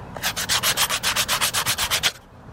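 Sandpaper rubs by hand on a wooden push stick in about fifteen quick, even back-and-forth strokes, loud and close, then stops abruptly.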